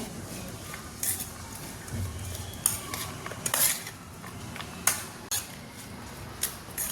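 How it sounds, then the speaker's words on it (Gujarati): Bread chaat ingredients are stirred and mixed in a bowl, with a string of irregular spoon scrapes and clinks over a quiet background, a few sharper knocks standing out, and no talk. "હવે આપણે બધું બરાબર મિક્સ કરી લેવાનું છે"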